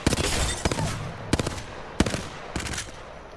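Apex Legends weapon firing in four separate bursts of rapid shots, crisp and loud, separated by short pauses.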